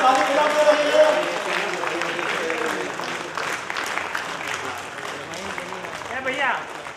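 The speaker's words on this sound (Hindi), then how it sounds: "ताली बजाते रहिए" Audience applause at a souvenir-booklet release function, a steady dense wash of clapping that runs through the whole stretch under a speaking voice and swells again near the end.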